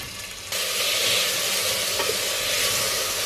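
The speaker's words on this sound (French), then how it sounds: "dans une casserole je vais mettre un petit peu d'huile d'olive avec des oignons" Onions and peppers sizzling steadily in hot olive oil in a saucepan, a loud close frying hiss that jumps up after a moment and continues.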